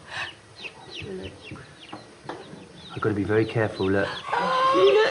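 Newly hatched chicks cheep on an Edwardian-style farm, their high peeping rising and growing louder in the second half while someone talks over them nearby.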